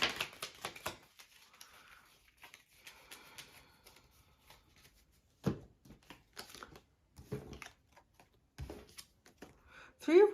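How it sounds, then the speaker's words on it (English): Brief bursts of tarot card riffling and soft shuffling, separated by pauses and a few quiet spoken words, close by. "Oh, I'm being told to shuffle it again."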